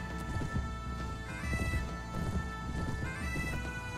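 Rhythmic hoofbeats of a galloping horse in the video game Mount & Blade: Warband, steady and close under a dense wash of game battle ambience, with no talking.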